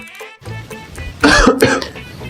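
Coughing in an indoor scene, a short cluster of rough bursts, with a louder, denser pair of coughs in the middle before it trails off, close and without speech.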